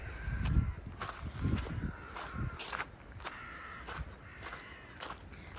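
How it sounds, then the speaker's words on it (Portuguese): A crow caws repeatedly in short, evenly spaced calls at a lakeside, fairly close, with soft footsteps and low rumbling underneath. "Não é, ó senhor corvo?"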